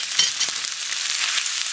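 Chicken gizzards hit a hot pan and sizzle loudly and steadily, with a few small pops and stirring taps in a brief burst without talk.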